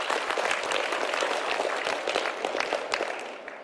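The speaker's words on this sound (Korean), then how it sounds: "회장님께 다시 한번 뜨거운 박수 보내주시기 바랍니다." Dense audience applause for the chairman at a forum on hydrogen hubs and green industrial complexes, many hands clapping steadily and loudly throughout, alone without speech.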